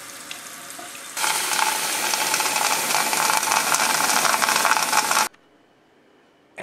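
Red beans being rinsed, a steady dense rush of running water over them lasting about four seconds, loud and close, then cutting off abruptly to near silence.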